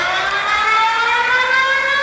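An emergency alert system tornado siren wails steadily and loudly with layered rising tones, sustained without a break and no voices over it.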